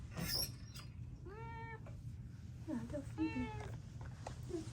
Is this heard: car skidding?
no